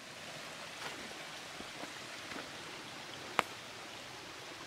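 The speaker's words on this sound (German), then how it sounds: "da kommt das Wasser aus dem Berg raus." Langkopf spring water running out of the mountainside in the Palatinate Forest, a soft, steady trickling rush, fairly quiet, with one sharp click near the end and no talk.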